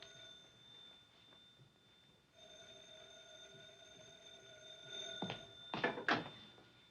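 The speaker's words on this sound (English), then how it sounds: "Goes the other phone." A telephone rings in a 1950s office, a steady faint bell tone over low room hiss, ending in a few louder clattering jolts near the end.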